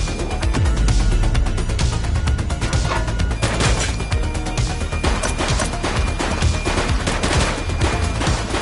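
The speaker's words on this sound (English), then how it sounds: "She's shooting!" Loud, sustained shootout gunfire in The Precinct police game, dense overlapping bursts and shots cracking continuously with occasional crashing impacts, close and unbroken.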